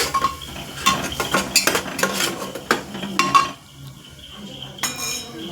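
A metal spoon stirs and sautés masala in a pan, scraping and clinking against the metal in quick irregular strokes, close up. A soft sizzle runs underneath, and a brief pause comes before a last few clinks.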